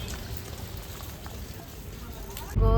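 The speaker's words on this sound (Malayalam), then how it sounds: "ഇപ്പോഴും നല്ല മഴയാ" Heavy rain hisses steadily on a forest road during a Goa to Maharashtra road trip, a dense, even wash of drops before a sudden loud rumble cuts in at the end.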